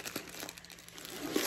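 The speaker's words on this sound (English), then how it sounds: "get that plastic out of the way" Plastic wrapping comes off a diamond painting kit with a brief, close, crinkling rustle that swells again near the end.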